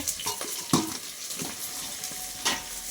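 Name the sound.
potatoes frying with a fish head over a wood fire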